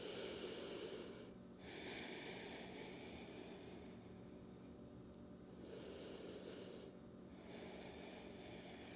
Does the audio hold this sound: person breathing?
yes